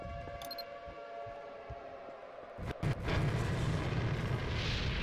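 Missile launch in Garry's Mod: a sharp burst near the middle gives way to a sustained loud rushing roar that continues to the end, over a steady background hum.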